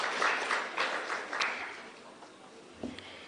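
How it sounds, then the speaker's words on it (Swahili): An audience at a public budget dialogue forum in Eldoret applauds Professor Wachana, chair of KIPRA, with scattered, moderate clapping heard from a distance that fades out over a few seconds, with no talking. "Tumpigie makofi tafadhali."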